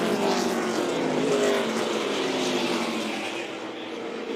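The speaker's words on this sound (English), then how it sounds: "Some heavy traffic for David Reagan right there" Race cars roar past on the track at the 2008 Hantz Group 200 stock car race, a loud sustained engine drone that fades slightly toward the end.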